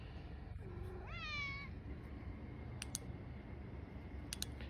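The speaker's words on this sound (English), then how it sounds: "Cowardly little cat here." A single cat meows once outdoors at night, a short rising-falling call at moderate distance over quiet background hiss, followed by a few faint clicks.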